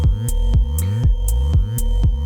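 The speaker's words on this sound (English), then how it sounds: "these things are just self-oscillating. So even if I stop the project, the sine waves will just keep going indefinitely" Self-oscillating synthesizer sine waves in a hypnotic techno patch, steady low droning tones with a throbbing pulse that repeats about twice per second, loud and alone with no voices.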